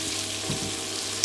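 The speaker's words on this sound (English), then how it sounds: "I'm going to let these finish frying up" Pieces of chicken for sesame chicken fry in a pan with a steady, close sizzle, ending in a brief sharp clatter.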